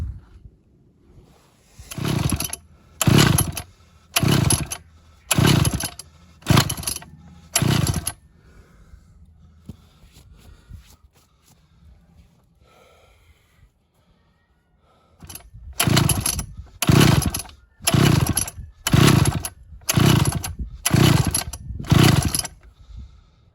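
A ported Pioneer 3270 chainsaw, losing performance after a carburetor swap, revs in sharp repeated bursts over a low idle, falls nearly silent midway, then fires off another run of about eight throttle blips.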